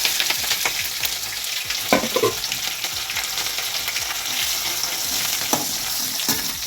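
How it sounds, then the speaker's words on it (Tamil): Green chillies and garlic frying in oil in a pan for garlic pickle, a dense continuous sizzle and crackle with occasional stirring scrapes, close and steady throughout with no talk. "இப்போது இந்த பச்சை மிளகாயும் பூண்டையும் சேர்த்து போட்டு எண்ணெயில் வதக்கிடுவேன்"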